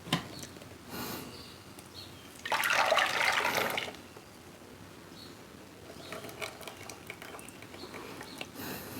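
Peanut butter and jelly moonshine mixture poured back into a cooking pot, a loud wet splashing pour lasting about a second, followed by quieter liquid sounds and light kitchen clatter.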